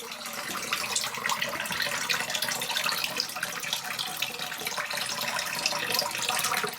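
Water runs steadily from a tap in an off-grid tiny house, a continuous hissing splash that stays even and fairly close for the whole stretch, with no talking.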